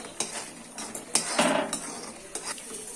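A utensil stirring thickening semolina paste in a pan, giving repeated scraping and clinking strokes against the metal at a moderate, close level, with one louder scrape in the middle.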